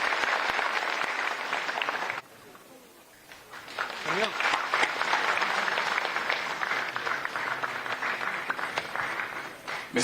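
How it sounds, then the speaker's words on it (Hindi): An audience at a tourism development conclave applauds to welcome a speaker, loud sustained clapping that dips briefly midway before swelling again. "आइए जोरदार तालियों के साथ श्री मनोज सिन्हा जी का स्वागत करें।"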